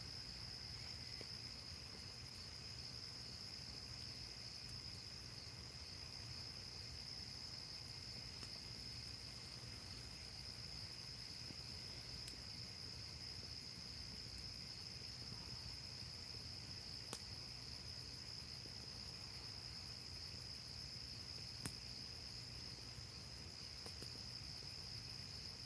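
Crickets chirp at night in a constant, shrill high-pitched trill that runs unbroken throughout, moderately close and alone, with a couple of faint clicks.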